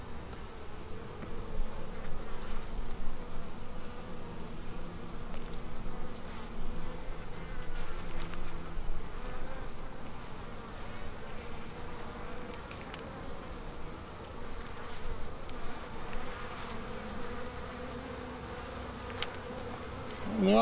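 Honeybees buzz steadily inside a hive that has just been requeened, a dense, continuous drone at close range with no voices over it.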